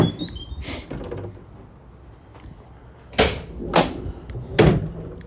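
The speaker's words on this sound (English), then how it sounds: "Doors lock into place, no issues at all." A Vauxhall Vivaro 1.6 CDTI van door shuts with a few sharp clunks and thuds spaced over several seconds, the latches catching into place, close by, with quiet handling noise between.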